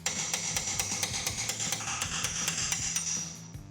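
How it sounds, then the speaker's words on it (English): A hammer's flat side taps out a metal brake pad pin on a 2015-2023 Ford Mustang in a quick, steady series of sharp strikes, close and fairly loud, with a faint ringing between hits. "you can use the flat side of the hammer to tap out the pin."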